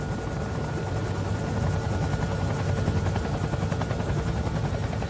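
A Chinook military helicopter flies nearby, its twin rotors producing a loud, steady thudding chop layered over turbine whine that holds at a constant level for the whole stretch, with no talking.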